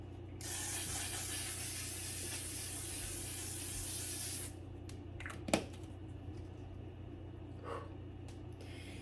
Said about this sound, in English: this L'Oreal Infallible 3-second setting mist